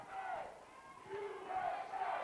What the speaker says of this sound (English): the crowd's chanting USA